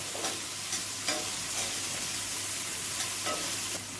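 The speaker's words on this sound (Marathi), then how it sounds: "त्यामध्ये टमाटर परतून घेऊया आपण" Onion and tomato sauté in a pan for paneer bhurji, with a continuous bright sizzle and several spoon scrapes at intervals, close and fairly loud, with no speech.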